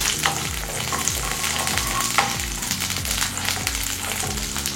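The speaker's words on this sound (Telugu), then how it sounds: "ఆయిల్ వేడెక్కిన తర్వాత పచ్చిమిర్చి వేసుకోవాలి." Chopped green chillies fry in hot oil in a pan, a steady close sizzle with repeated stirring scrapes and soft clatters throughout, with no talk.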